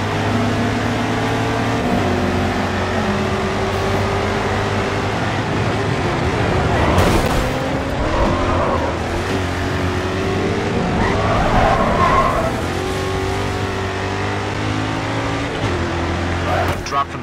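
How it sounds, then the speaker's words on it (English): A race car in the video game GRID 2 drones with a steady engine note, shifting pitch and breaking into tire squeal and skidding as it drifts through corners, while a voice talks over it. "This car will have a tendency to drift through the corners."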